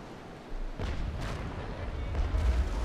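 Cannon fire in a Naval Action game sea battle between ships Le Requin, Mercury and a brig: a few heavy booms rumble close and loud, building into a continuous low barrage.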